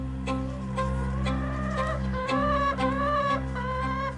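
Hens feeding on scattered food, giving a steady run of soft, close clucks and murmurs with a few louder calls over a constant low hum.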